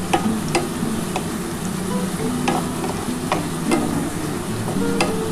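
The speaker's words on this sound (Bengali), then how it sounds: "আজকে পুরোটাই পেঁয়াজটাই কিন্তু আমি ভাজবো বন্ধুরা" Onions sizzle in a pan for chicken kosha while a spoon scrapes and stirs them, giving a steady hiss with regular clinks and scrapes throughout.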